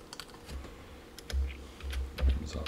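Computer keyboard typing in short irregular bursts of clicks and key taps, close and moderately quiet, with no voices.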